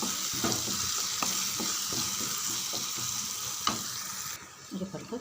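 Masala with curry leaves fries in oil in a pan for a potato and green pea gravy, a steady close sizzle broken by regular scraping stirs, fading slightly toward the end.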